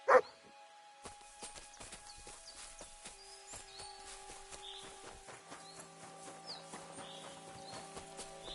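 A dog barks and yips in Kingdom Come: Deliverance 2, close and fairly soft, among scattered game sounds, hoof-like clops and faint music tones, with one louder burst at the start.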